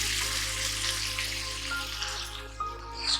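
King prawn chilli karahi sizzles in a pan over high heat, a close, continuous crackling fry with small pops and spits throughout.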